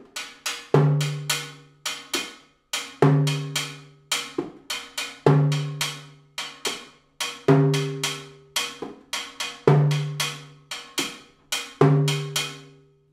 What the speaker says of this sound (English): That's the pattern for the timbales.